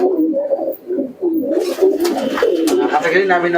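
Pigeons in a loft of local and foreign breeds cooing in close, repeated low throaty calls, joined later by someone speaking over them.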